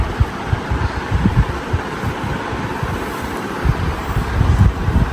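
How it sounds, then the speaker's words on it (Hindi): Wind blowing outdoors on a cloudy day, a steady broadband rushing with low buffeting gusts against the microphone, continuous and fairly loud throughout, with no voices. "हवा चल रही है, बादल हो रहे हैं।"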